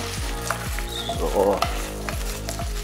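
Potatoes fry in a hot pan for Bratkartoffeln, a close, bright sizzle running throughout with rhythmic scraping stirs about every half second.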